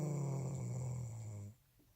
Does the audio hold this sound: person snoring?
yes